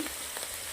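Broken Kashmiri chillies and asafoetida sizzle in hot oil as a tempering for pav bhaji, a steady, fairly soft frying hiss heard on its own with no voices.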